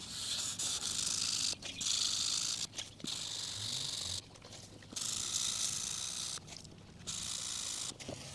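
A rigid sanding block works over a paint run on the flat body-line panel of a 1986 Chevrolet Monte Carlo SS during colour sanding, with close, rasping back-and-forth strokes in several bursts separated by short pauses.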